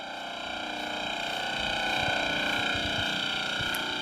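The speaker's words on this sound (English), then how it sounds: "That's the transmitter firing at 30 pulses a second." An MF radar transmitter at an Antarctic laboratory hums continuously in a dense, tonal electrical drone, its 30-pulse-a-second firing giving a fine, even buzz, close and steady with no voices.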